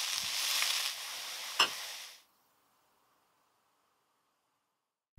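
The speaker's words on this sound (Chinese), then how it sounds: "简单的翻炒1-2分钟就可以出锅了。" Food is stir-fried in a pan with a close sizzle and a single sharp tap. After about two seconds it cuts off into near silence.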